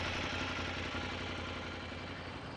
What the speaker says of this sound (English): Now let's listen to the exhaust. Because every bike, makes its own tune.